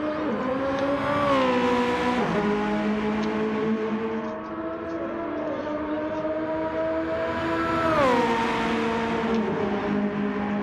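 Ferrari and Porsche race cars in Gran Turismo 7 during a Le Mans 24-hour endurance race, engines droning steadily with rising and falling pitch through gear changes, loud and continuous with no talk.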